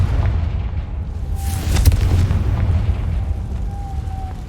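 A Confringo spell explosion in Hogwarts Legacy lands as a deep, sustained booming rumble with a sharp burst near the middle, set against a continuous low roar.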